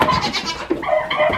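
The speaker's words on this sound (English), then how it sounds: "I start to feed the goats." Goats bleat repeatedly at feeding time in a farm pen, several wavering calls close by and fairly loud, one after another with no talk.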